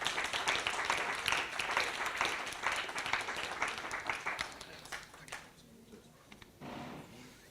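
Applause for a panel discussion on coalition governance in South Africa, a dense burst of clapping that thins out and fades over several seconds, followed by a brief spoken voice.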